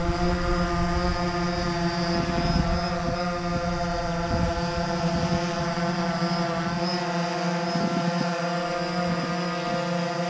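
Wingsland M1 drone hovering after a firmware flash, a steady, high propeller whine with stacked buzzing tones that holds level throughout, moderately loud and close, with no talk.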